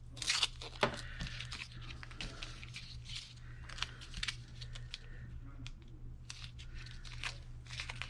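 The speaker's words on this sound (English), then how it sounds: "I want to rip." Washi tape being ripped by hand during a crafting session, heard as several quiet, sharp tearing and crinkling bursts with brief gaps, close and soft over a low steady hum.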